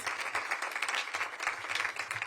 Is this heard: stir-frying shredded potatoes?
no